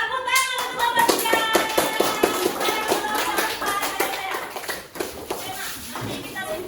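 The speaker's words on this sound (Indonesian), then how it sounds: "Oke, tepuk tangan untuk kelompok 3" Classroom of children clapping for a group, with rapid sharp claps in a fast patter up close, mixed with kids' voices and shuffling, the clapping thinning and turning irregular toward the end.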